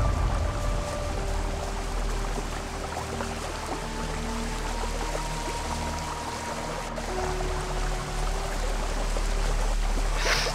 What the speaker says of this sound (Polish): Na przykład jest tutaj taki wodospad, proszę.